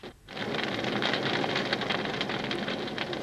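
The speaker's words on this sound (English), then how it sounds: "Easy one, it's a fire." A fire burning, played as a quiz sound with no clues given: a steady, dense crackling hiss that begins after a brief quiet moment and holds at an even level throughout, with no talk over it.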